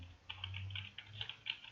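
Someone types a virtual machine name on a computer keyboard while setting up Kali Linux, producing a quick run of soft key clicks in an uneven rhythm, close and quiet in a silent room.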